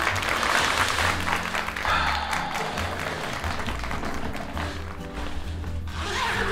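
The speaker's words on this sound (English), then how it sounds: "Studio clap, everyone." Studio-style canned applause of many people clapping, a dense, steady roar of claps that runs loud and continuous throughout with no gaps.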